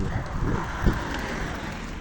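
Steady gusting wind rumbles and buffets the microphone outdoors, with a low roar that swells briefly near the middle.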